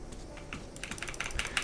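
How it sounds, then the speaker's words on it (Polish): Rapid clicking of computer keys while playing Metro 2033 Redux, a quick irregular run of light taps growing busier toward the end, close and fairly quiet, with no talking. "Słyszycie, jak klikam?"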